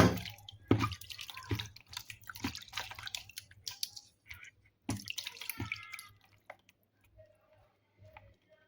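Fruit gets rinsed in clean water, with close splashes, drips and wet squelches coming in irregular bursts, then tapering into a few quiet trickles and drops.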